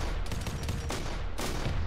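Dense, continuous gunfire from the video game Arma 3, a loud sustained fusillade of overlapping shots with heavier bursts near the middle and end, no pauses throughout.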